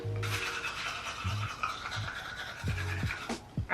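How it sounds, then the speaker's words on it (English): A soft toothbrush scrubs teeth in short, rhythmic bursts of bristly scratching, close and fairly loud, with a few brief low vocal sounds between strokes. "I feel like you can't brush your teeth with a soft toothbrush."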